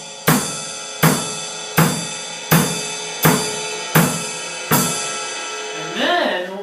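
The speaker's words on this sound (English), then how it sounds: "you want to start out by playing straight quarter notes on the ride cymbal and on the kick" A drum kit plays steady quarter notes together on the ride cymbal and kick drum, seven evenly spaced strikes with long cymbal wash, followed by a brief sung or hummed tone at the end; no one talks.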